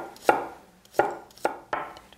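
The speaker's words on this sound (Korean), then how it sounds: "주어진 양파는 곱게 다져서 찹으로 다져서 시금치 볶을 때 양파와 함께 볶도록 하겠습니다." Knife finely chopping onion on a cutting board, four distinct close thuds at an uneven pace with no talk over them.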